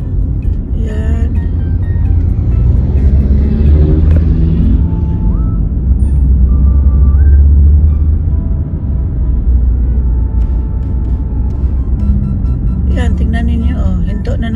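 Cars creep along in slow, backed-up road traffic, making a steady low rumble with occasional engine tones rising and fading. A voice talks over the traffic for much of the time.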